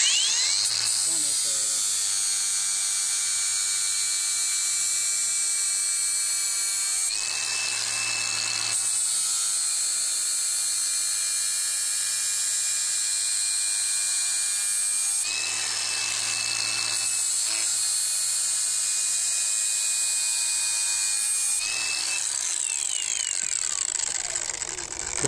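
A lawnmower blade being sharpened on a sharpener jig with a grinding disc, a loud steady high-pitched grind that pauses briefly and resumes, with a constant motor whine underneath.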